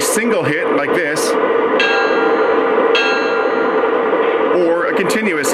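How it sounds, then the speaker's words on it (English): Someone talks, then a Lionel Santa Fe ALCO PA model locomotive bell rings out with single strikes, its tone lingering, before the talking resumes. "Check out the bell. You can do a single hit like this,"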